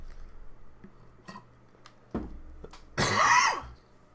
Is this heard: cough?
yes